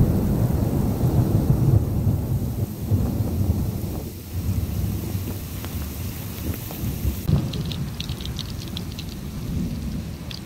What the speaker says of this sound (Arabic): أمطار غزيرة الآن